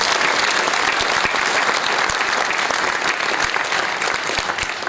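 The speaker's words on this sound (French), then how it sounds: "je pense qu'on peut encore les applaudir pour les encourager ce soir" Steady applause from an audience at the 2018 Tecoma Award ceremony in Mauritius, dense and sustained throughout with sharp individual claps standing out, no talk over it.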